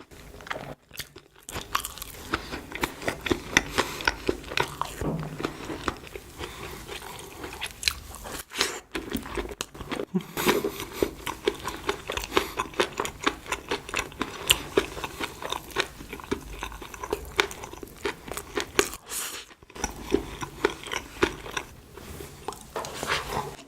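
Close-up eating of crunchy real-corn bread snacks: repeated sharp crunching bites and wet chewing follow one another for about twenty seconds, with short quiet gaps and no speech.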